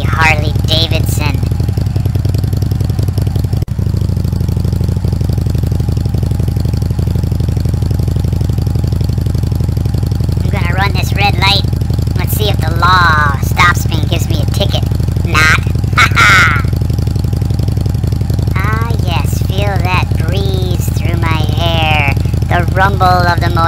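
A Harley Davidson motorcycle in the Roblox game Bloxburg gives a steady, low, throaty rumble throughout, with someone talking over it at intervals.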